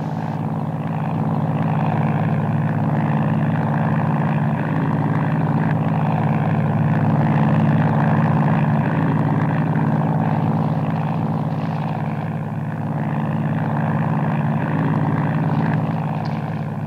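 Propeller airplane taking off, a loud, steady droning engine hum that holds throughout and swells slightly in the middle, with no voices over it.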